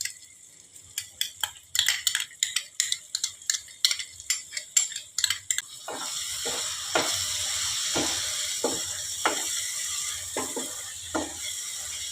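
Whisked yogurt poured into a pan of Bengali prawn curry, starting with a quick run of spoon clinks and stirring taps, then settling into a steady loud sizzle with occasional scraping strokes.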